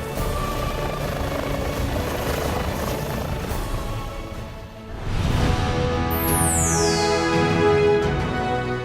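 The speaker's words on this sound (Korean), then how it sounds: "국내 최초로 닥터헬기를 도입한 길병원" A medical emergency helicopter with a doctor and paramedics aboard flies close by, its rotor thumping loudly and steadily before the engine whine rises and sweeps as it passes overhead.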